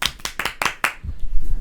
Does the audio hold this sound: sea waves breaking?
no